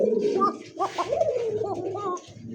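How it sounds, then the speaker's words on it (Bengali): An Arabian koka pigeon cooing close by in a series of soft, rolling calls, several short phrases over about two seconds, with a person talking underneath. "এটা আরাবিয়ান অ্যারাবিয়ান কোকা, হ্যাঁ অ্যারাবিয়ান কোকা কবুতর মাস্টার বিয়ার।"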